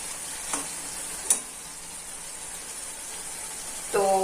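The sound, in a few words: rui fish with jackfruit seeds cooking in a pan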